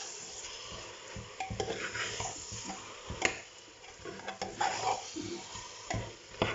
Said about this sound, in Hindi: अब इसमें इसकी भुनाई होगी, दही में 6 चम्मच दही में इसकी भुनाई होगी।